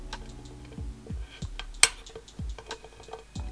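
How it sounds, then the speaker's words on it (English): A cutting tool chops through hard, crumbly polymer clay in a studio, making a series of light clicks and taps with one sharp snapping crack near the middle, with no talking. "you can use your cutting tool to cut it down further"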